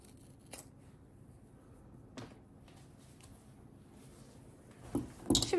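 Large scissors cut leather for a handbag made from paper rope, a few sharp snips spaced apart in a quiet room, growing louder and busier at the end.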